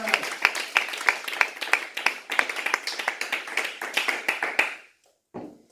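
Church congregation clapping and applauding in a rapid, loud, steady burst lasting several seconds, then stopping abruptly, followed by a short vocal exclamation.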